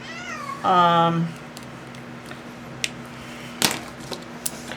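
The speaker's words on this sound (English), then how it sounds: "that was Toby walking in, meowing" One drawn-out cat meow, clear and fairly close, followed by quiet room noise with a few faint clicks and a sharp knock.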